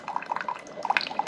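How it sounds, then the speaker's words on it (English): A Ninja CFP307 DualBrew Pro coffee maker dispenses hot water, a soft, uneven trickle and drip of liquid running steadily at close range. "Hit the start button, and it starts brewing the hot water right away."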